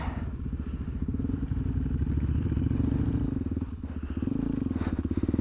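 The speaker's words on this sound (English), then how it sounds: "I was in second gear and I stalled" A dirt bike on an offroad trail in second gear, its engine chugging loud and close with rough pulsing thumps and clatter, bogging down and dying out near the end before a brief sputter.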